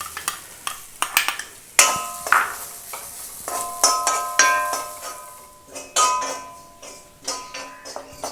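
Grated coconut roasting in hot coconut oil in a pan, with a steady soft sizzle under repeated scraping and clinking strokes of a spoon stirring against the metal, close by.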